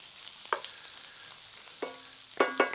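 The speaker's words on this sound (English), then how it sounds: "we're starting to get some good color on these onions" Onions frying in a pan for a ribeye French dip, a steady soft sizzle broken by a few sharp clinks and scrapes of stirring, close up with no talk.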